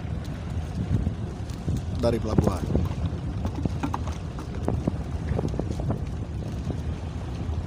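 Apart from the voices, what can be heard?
pilot boat guiding a ship out of Tanjung Priok port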